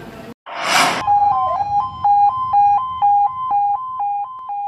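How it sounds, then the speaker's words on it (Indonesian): A volunteer ambulance siren in Berau, Indonesia wails in a rapid two-tone pattern after a brief burst of noise, loud and steady. "Tiga ambulans relawan Senin siang mengawal dan membawa jasad Nandro"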